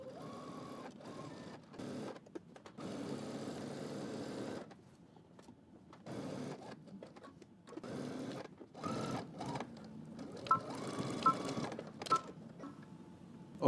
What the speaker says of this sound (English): we're going to stitch right over this fold here